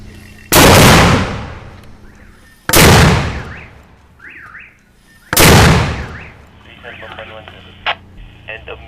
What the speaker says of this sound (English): they're just about to send this mortar into enemy territory